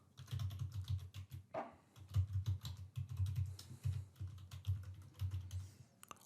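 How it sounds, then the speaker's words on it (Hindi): Steady, close keyboard typing as user details go into a computer: a run of quick, fairly loud key clicks with brief pauses, no voices. "एंटर करता हूँ यूज़र के डिटेल्स"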